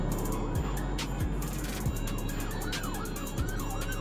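A state trooper police siren in traffic, faint and distant, wailing and sweeping up and down over a steady low rumble of engines, with no talk.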